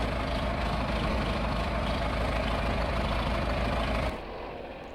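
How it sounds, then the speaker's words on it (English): An old John Deere 3020 tractor engine idles nearby, a steady broadband rumble that holds evenly for about four seconds, then drops abruptly to a quieter low hum. "Good old tractors"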